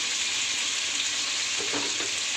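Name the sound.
sautéing coriander and mint leaves in ghee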